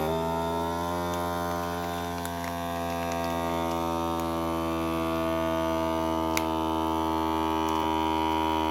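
Vacuum sealer machine sealing a bag of macaroni, a steady loud motor hum with strong tonal harmonics that runs unbroken and close throughout.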